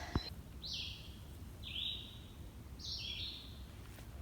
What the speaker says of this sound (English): Birds are happy today.